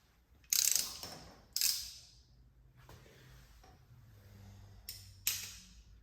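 Ratchet or torque wrench tightening engine mount bolts on a VW MK7 during a BFI Stage 1 mount install, a few sharp metallic click bursts spaced over several seconds with a faint low hum between.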